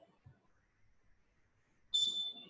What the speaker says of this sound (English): clock's beeping